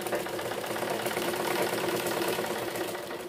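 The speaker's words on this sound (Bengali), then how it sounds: "আর ওইটা সেই অনুসারেই আমরা আস্তে আস্তে ডাবল করে সেলাই করে দেব।" A sewing machine stitches a doubled cord while making a decorative lotkon design. It makes a steady, close mechanical whir that runs without a break.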